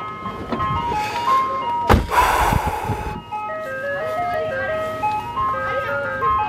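An ice cream truck's tinkling melody plays on repeat nearby while its engine idles, interrupted by a loud thunk and a burst of rumbling noise before the chiming jingle carries on.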